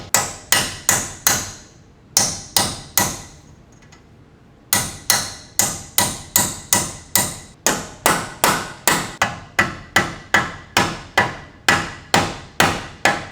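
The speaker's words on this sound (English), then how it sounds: "I'm actually going to try to use a chisel to separate the plate from the spindle here." Steel chisel struck repeatedly with a mini sledge while separating a ball joint from the spindle on a front control arm of a BMW E53 X5, sharp ringing metallic blows in a steady rapid rhythm, loud and close, with one short pause.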